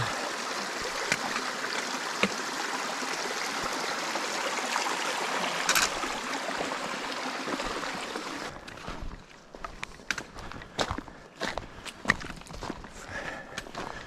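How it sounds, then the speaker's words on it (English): A mountain stream along a forest hiking trail flows with a steady rushing wash, then fades as close footsteps and scattered crunching and knocking sounds take over in the later part. "This is more my kind of stream."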